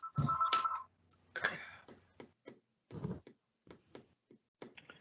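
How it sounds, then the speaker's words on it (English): A phone rings during an online regional board meeting, a bright warbling tone at the start followed by fainter intermittent sounds and scattered brief noises. "That's Brenda's phone is ringing."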